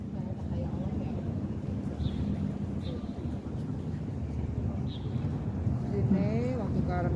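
Constant wind rushing and buffeting against the microphone by the sea, with faint bird calls now and then.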